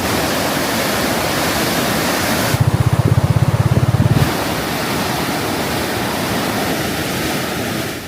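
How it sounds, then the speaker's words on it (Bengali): Water surges through the open sluice gates of the Muhuri regulator in Feni toward the Bay of Bengal, a steady loud broadband roar running throughout with a brief low hum partway through. "আর এদিকটায় দেখেন, পানি কিন্তু খুব জোরে কিন্তু নেমে যাচ্ছে এই বঙ্গোপসাগরের দিকটায়।"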